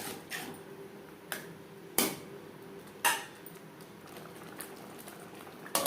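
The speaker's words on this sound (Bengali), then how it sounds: "4-5 মিনিট মশলা কষিয়ে নেব।" Spice paste for prawn malai curry frying in a pan on low flame, a soft bubbling sizzle broken by a few sharp spatula knocks and scrapes against the metal.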